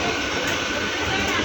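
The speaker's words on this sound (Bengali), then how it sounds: "ছুটি হয়ে গেছে, আমরা ট্রেনে উঠে গেছি" Inside a moving train carriage, a dense, steady rumble and rush of wheels and motion fill the space continuously and loudly for a brief stretch.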